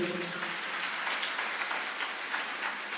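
Loud, sustained clapping from a church congregation during a Sunday sermon, a dense even wash of hand claps filling the whole stretch after a brief spoken phrase at the start.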